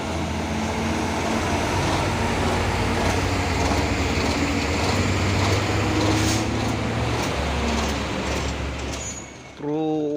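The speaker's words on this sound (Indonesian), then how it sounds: "Wah, sampai terberam-beram bus Chandra." A fully loaded Chandra bus labors uphill, its engine droning loud and steady close by under roadside talk before the sound drops away near the end, with a truck also on the climb.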